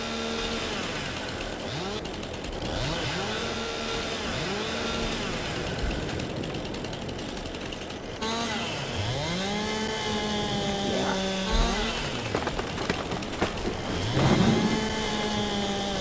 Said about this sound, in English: We're going to hit our chainsaw limiter.